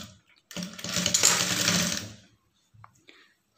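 A sewing machine stitching a lining blouse runs in one loud burst of about a second and a half of fast, whirring needle action, then stops, followed by a brief quieter mechanical click.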